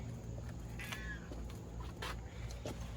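A cat meows a couple of times, fairly close, over a steady background hum.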